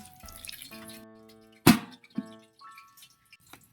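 River water poured into a cooking pot while preparing squash blossoms and fried tilapia, heard as a few wet splashes and drips, one louder splash standing out near the middle against faint background sound.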